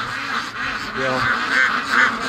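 Ducks quack while shut in a pen on a free-range farm, short nasal calls repeating under a steady background, with a voice speaking.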